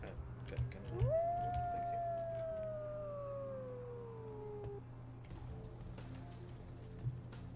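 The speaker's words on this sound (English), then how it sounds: "We just had a werewolf howl." A werewolf howl from the video game Vampire: The Masquerade - Bloodlines rises sharply, then holds and slowly falls in one long, fairly quiet wail over a low background hum.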